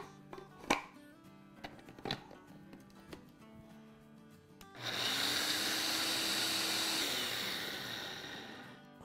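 Mixer grinder grinding fennel seeds and cardamom into powder: after a few knocks and taps, the motor starts halfway through with a loud steady whirring roar that keeps going to the end.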